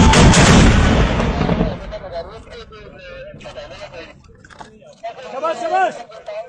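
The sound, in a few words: mortar firing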